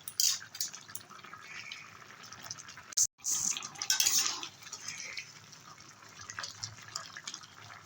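Bata fish soup with potato, pointed gourd, snake gourd and bottle gourd stems simmers in a pot, giving soft, quiet bubbling and dripping with a few faint utensil clinks and no voices.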